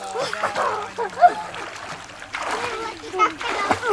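A young boy splashes about while swimming in outdoor water, with irregular nearby splashes and sloshing under adults and children talking and calling out.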